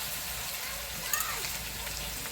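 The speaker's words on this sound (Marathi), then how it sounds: "आता लसूण बी छान असा भाजून घ्यायचा" Garlic roasting in a pan over a wood-fired stove sizzles with a steady, close crackling hiss that stays loud and even throughout.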